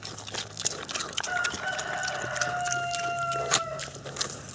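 A barnyard rooster crows nearby outdoors in a farmyard with a pig, a long drawn-out call standing clear over steady farmyard background noise, with scattered clucks and rustling around it.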